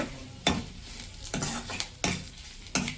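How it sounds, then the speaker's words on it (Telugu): Cumin, urad dal, dried red chillies, garlic and curry leaves fry in hot oil with a steady sizzle, while a spoon stirs and scrapes the pan in several sharp, close strokes. "వేగిపోయింది జీలకర్ర మినప్పప్పు ఎండుమిరపకాయ వెల్లుల్లిపాయ కరివేపాకు చూడండి ఫ్రెండ్స్ వేగిపోయింది"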